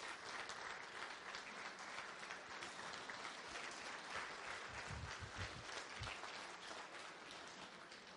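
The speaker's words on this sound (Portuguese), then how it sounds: "vamos dar uma salva de palmas para ela" A seminar audience gives Jeanine a sustained round of applause, steady dense clapping from many hands at a moderate distance, with a few low thumps partway through.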